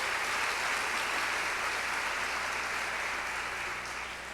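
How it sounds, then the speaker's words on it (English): An audience at a university women's conference applauds a sponsor, a broad, steady wash of clapping heard from a distance that fades slightly toward the end. "so please give them a round of applause."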